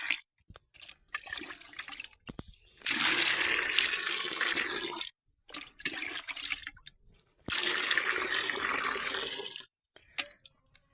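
Water splashing and swirling in bursts as it is mixed with chemical fertilizer in a container, two longer sustained stretches broken by short quieter splashes, close and alone.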